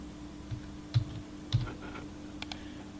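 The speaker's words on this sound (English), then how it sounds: "type in the confirmation code" Typing a confirmation code on a computer keyboard: a few soft, separate key taps spaced out over a steady low hum, recorded close and quiet.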